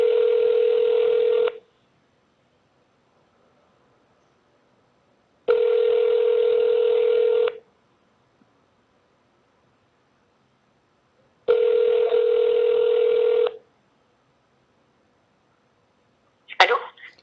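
A telephone ringback tone plays while a call is placed from France: three clear, evenly spaced tones about two seconds long with four-second silences between them, then a brief click or rustle at the end.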